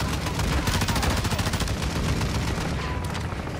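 Rapid bursts of gunfire in Call of Duty Modern Warfare II during a DMZ Shadow Siege mission, loud and continuous with dense overlapping shots throughout.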